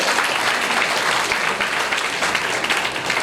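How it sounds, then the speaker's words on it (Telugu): An audience at a Mother Teresa birth anniversary event gives a big round of applause, a dense, loud, continuous wash of clapping from many hands filling the room throughout. "మీరందరూ రాజనారాయణ గారికి బిగ్ క్లాప్ తో థాంక్స్ చెప్పండి"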